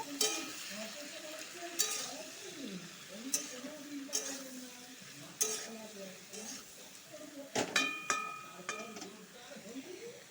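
Mixed vegetables seasoned with salt and turmeric are stirred in a pan for a vegetarian chorchori, giving repeated scraping and clinking strokes over a soft sizzle, with a person talking throughout.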